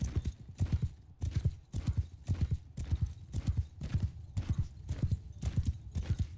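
Horses gallop in Mount and Blade Bannerlord, their hooves drumming in a steady, rapid clip-clop rhythm that repeats through the whole stretch, close and fairly loud with no talk over it.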